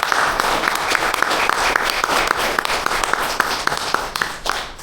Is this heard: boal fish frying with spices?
no